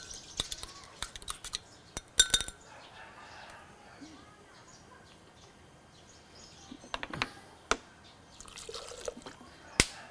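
Small splashes and drips of water are poured into a turmeric herbal drink in a stainless steel bowl, a few sparse close trickles and clinks spread across a quiet background.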